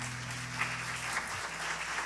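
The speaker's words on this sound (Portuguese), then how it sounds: "Você pode aplaudir o Senhor" Steady applause from a church congregation, a continuous wash of clapping with a low sustained musical tone underneath.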